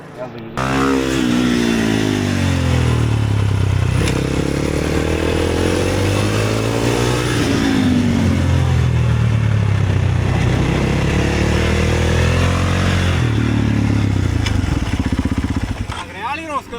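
A motorcycle ridden around a cone course at a riding school, its engine loud and close throughout, revving up and easing off in repeated rising and falling sweeps.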